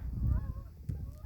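Geese honking faintly overhead, a few scattered calls drifting over a low rumble of wind.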